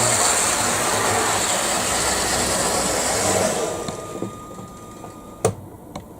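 Model railway locomotive running on track, a steady close rolling rumble that fades after a few seconds into quieter ticks and a couple of sharp clicks.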